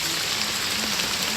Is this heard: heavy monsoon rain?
yes